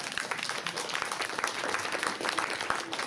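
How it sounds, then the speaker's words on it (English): Audience applause after a lecture at an international conference on uprising and freedom, a steady wash of clapping at moderate level across the whole stretch, with a faint murmur underneath. "Can we get a round of applause to that, please?"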